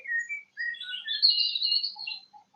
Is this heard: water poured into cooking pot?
no